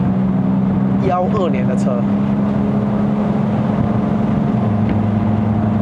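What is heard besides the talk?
2012 MK3 Ford Focus 2.0L dual-clutch engine pulling away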